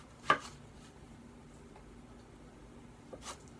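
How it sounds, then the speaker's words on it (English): A kitchen knife slices through an onion for thick rings, one crisp close chop at the start and a softer cut near the end, quiet in between. "I'm cutting down to the center of the onion"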